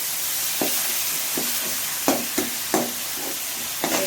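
Tomatoes sauté in a pan for thoothuvalai rasam, a soft steady sizzle broken by several sharp scrapes and knocks of a spoon stirring, with no voices.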